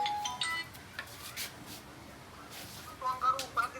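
A phone ringtone in a Gujarati comedy skit, the call going unanswered, chimes in short melodic bursts at the start and again near the end, fairly quiet over a faint room background with no talk.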